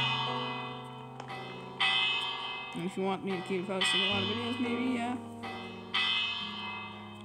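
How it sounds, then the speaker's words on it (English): A bell in the Minecraft Hive Murder Mystery game rings over and over, bright sustained tones layered under a speaking voice throughout, with several fresh strikes landing loudly. "Who is constantly ringing this bell?"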